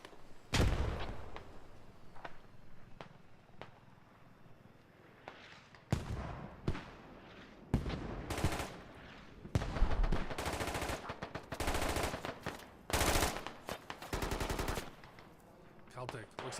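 Gunfire in the Squad video game, with scattered single shots early on that build into longer automatic bursts. The shots are loud and close, and some lulls fall between them. A commentator talks in between.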